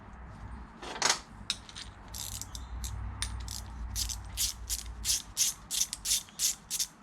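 An extended rear bump stop is screwed in on a Suzuki Vitara, with faint scraping and rubbing followed by a quickening series of short ratcheting turns up close.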